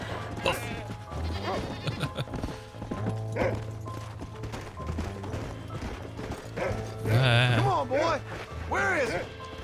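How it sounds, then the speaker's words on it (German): Ibex bleating in Red Dead Redemption, a few wavering calls rising near the end over hoof clip-clops and game ambience, while someone talks over most of it. "Steinbock war es, keine Ziege, war ein Steinbock."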